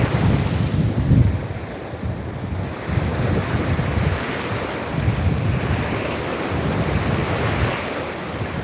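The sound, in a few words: ocean waves breaking on a Hawaii shore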